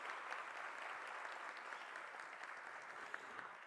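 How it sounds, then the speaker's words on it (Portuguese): Faint, steady applause from an audience at a public policy launch event in Rio de Janeiro, even continuous clapping heard from a distance without talk. "eu gostaria de pedir a vocês uma salva de palmas, mais uma vez, a Joyce Trindade"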